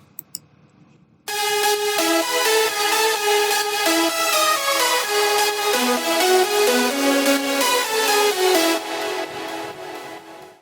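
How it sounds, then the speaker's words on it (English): Layered synth leads from a progressive house track enter after a brief quiet moment, a bright stack of bouncing melodic notes in a steady rhythm, loud and solo without drums or talking, fading slightly at the close. "Let's first start with the leads"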